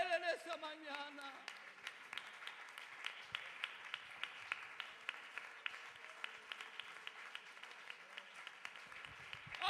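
Enthusiastic applause from a church congregation, dense rhythmic clapping sustained throughout after a brief voice at the start.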